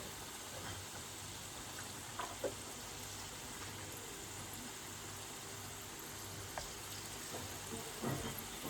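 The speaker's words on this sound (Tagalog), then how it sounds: "magprito na tayo" Battered quail eggs deep-frying in hot oil for kwek kwek, a steady soft hiss and crackle with a few faint pops, quiet and continuous with no talking.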